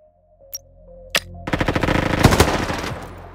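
Gunfire in the Roblox shooter game Frontlines starts after a couple of isolated shots and becomes a loud, rapid automatic burst. The close, repeated cracks run for about two seconds and then fade, with no speech.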